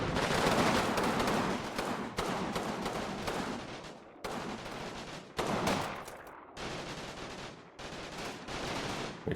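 Gunfire in the Normandy wargame Combat Mission Battle for Normandy during an assault on buildings: dense, continuous crackling bursts of small-arms and machine-gun fire, fairly faint, cut into several segments, with no voices.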